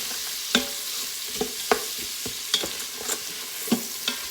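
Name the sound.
yellow onions being stirred and sautéed in an Instant Pot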